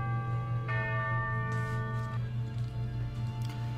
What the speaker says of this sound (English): Okay, it's just a bell.